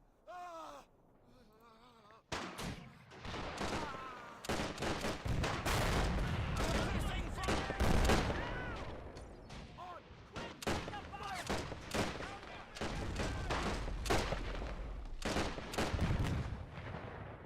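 Rapid bursts of rifle and machine-gun fire mixed with heavier mortar blasts crackle through a 1919 German revolution battle between Freikorps and Spartacists in a strategy video game, dense and continuous, with pained groans and gasps among them.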